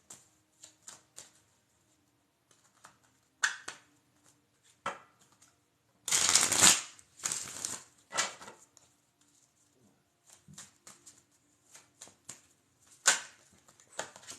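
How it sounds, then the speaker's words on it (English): Tarot cards shuffled by hand in a quiet room, with soft scattered riffles and taps and one louder riffling burst partway through, close and without speech. "We're going to keep shuffling."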